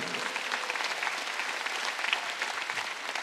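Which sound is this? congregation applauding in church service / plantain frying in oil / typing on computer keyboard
congregation applauding in church service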